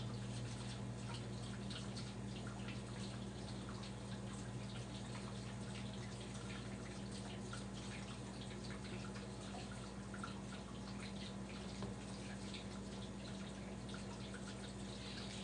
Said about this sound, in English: The water running is because the dishwasher is on.